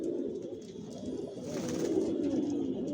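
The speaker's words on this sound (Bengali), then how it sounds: "আর এগুলো সব বিদেশি কবুতর" Racing pigeons, foreign-bred racer babies, coo steadily in a loft, their low throaty calls overlapping in a continuous murmur at close range, with no speech.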